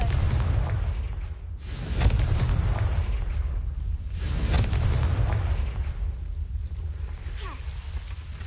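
A deep rumbling explosion from the Confringo spell in a Harry Potter video game, heavy low booms swelling and fading over several seconds with a sustained roar, loud and close.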